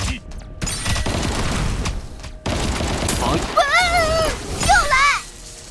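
Rapid gunfire bursts from the anime shooter Into The Void crackle in sharp clusters, mixed with warbling electronic effects and game music, while a player talks over them.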